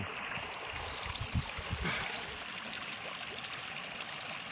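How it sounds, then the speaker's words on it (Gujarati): Water runs steadily through a farm irrigation channel in a continuous broad rush, close and fairly loud, with a few low thumps near the start and no voices. "જો પાણી હાલતું હતું"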